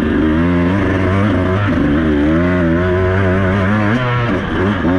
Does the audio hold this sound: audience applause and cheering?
no